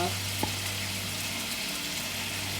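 Chili paste sizzles steadily in a wok for char koay teow, a constant close frying hiss with a faint stirring clink near the start.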